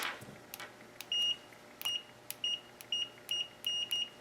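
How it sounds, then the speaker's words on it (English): A Fluke 17B+ multimeter gives short, sharp continuity-check beeps in a quick irregular series, about eight chirps close by, with faint clicks between them in a quiet room. "that's one thing I look for, is a really quick latching continuity checker"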